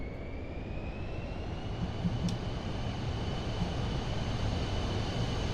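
An airliner in Microsoft Flight Simulator 2024 rolls for takeoff from runway 26, its engines giving a steady, loud, close roar with a faint rising whine running underneath, no speech.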